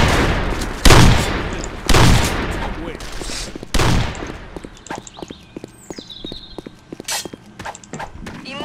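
Video game shotgun fire: several heavy, booming blasts spaced about a second apart, then a scatter of sharp clicks and quicker reports at lower level.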